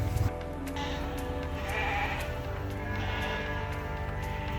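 Sheep bleat from farm pens at an indoor vertical farm, several calls rising over a steady mechanical hum, fairly close and overlapping.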